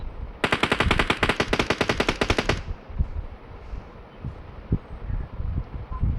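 Rapid automatic gunfire from the battle royale game BGMI rattles in one loud, dense burst of about two seconds, then cuts off to quieter background rustle and scattered soft thumps.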